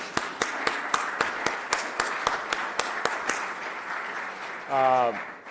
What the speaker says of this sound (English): he has the right for applause